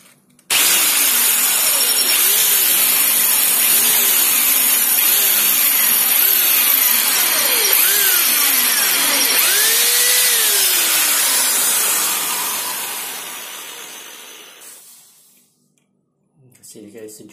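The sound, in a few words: ordinary electric drill drilling into a wall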